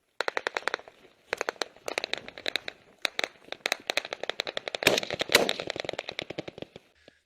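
Return gunfire in combat, with soldiers laying down a base of fire from cover: rapid bursts of sharp cracks in quick irregular strings with brief pauses between them, moderately distant.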